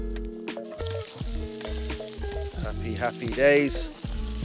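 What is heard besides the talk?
potatoes frying in bacon fat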